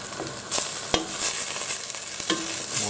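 White sauce for a prawn blanquette stirred in a pan, a constant low hiss with several distinct spoon knocks and scrapes at irregular intervals, no speech.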